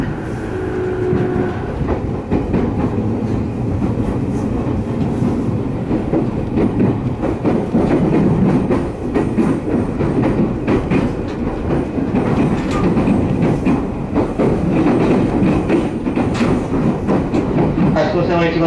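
An orange commuter train running on rails into Hachiōji, with a continuous rumble and clickety-clack of wheels while an onboard voice announcement speaks over the noise.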